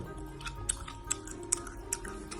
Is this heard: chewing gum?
yes